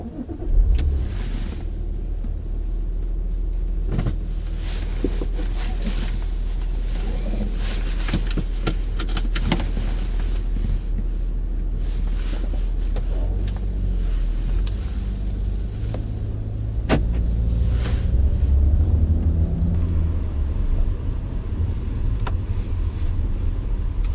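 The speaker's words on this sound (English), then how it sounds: "it's time to take this Macan out and see what it's all about in the real world" A Porsche Macan SUV driving on real-world roads, heard from inside as a steady low engine and road rumble with tyre hum, punctuated by a few clicks and light knocks, no talking.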